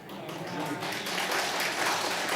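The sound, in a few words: congregation applauding spontaneously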